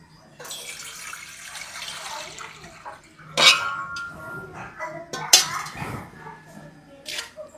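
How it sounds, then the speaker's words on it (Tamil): Water is poured into a cooking pot during village meal preparation, a steady splashing stream from close by with a few sharp metallic clinks of the vessel. "தண்ணி ஊற்றுறோம்."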